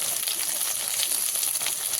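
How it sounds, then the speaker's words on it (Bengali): Steady, close sizzle of gathi kochu (taro) frying in oil with dried red chilli, bay leaf, cumin, turmeric and salt, a continuous bright hiss for the whole moment with no voices. "গাঁঠি কচুকে এভাবে নেড়েছে একটু ভাজা ভাজা করে নেব।"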